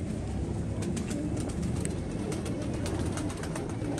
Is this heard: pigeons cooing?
yes